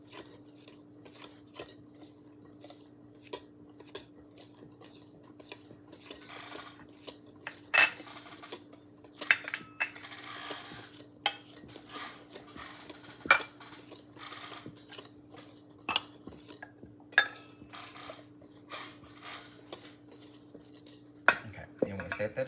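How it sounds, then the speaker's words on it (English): A whisk clatters and scrapes in a bowl of combined holiday bread ingredients, quiet irregular metallic taps and rattles over a steady low hum, with no talking. "I'm just gonna whisk it together."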